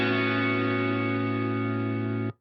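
An electric guitar rings out through a reverb pedal, a single sustained chord held steady for about two seconds before cutting off abruptly, with no voices.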